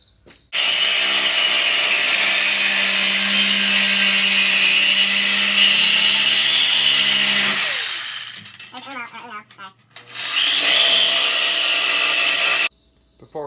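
Power tool cutting through exhaust pipes on a Dodge, a loud continuous grinding whine for about seven seconds, a pause with clatter, then another loud burst of cutting.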